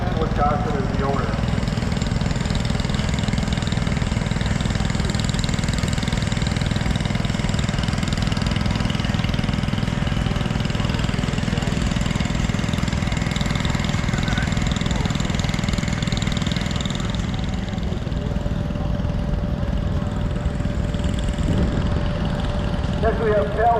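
A 1962 Cub Cadet 7 horsepower garden tractor engine runs at a steady idle during a threshing show parade, a continuous low droning putter that stays even throughout.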